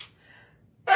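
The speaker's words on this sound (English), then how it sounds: "I'm about to sneeze." A single person's sneeze bursts out at the very end, preceded by a faint quick intake of breath and near silence.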